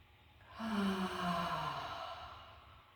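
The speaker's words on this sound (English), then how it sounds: "Open mouth, exhale." Open-mouthed exhale during a yoga breathing practice, a single long, soft, breathy sigh that swells and then slowly trails off, close and quiet.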